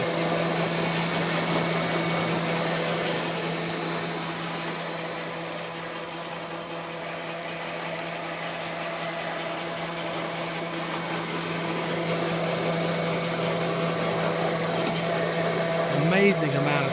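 An electric-converted riding lawn mower runs with a steady, close electric whine and drivetrain hum throughout, dipping slightly mid-clip before rising again, with a brief voice near the end.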